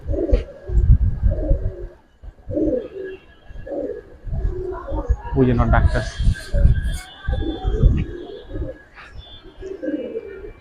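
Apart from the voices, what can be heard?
Giribaz pigeons cooing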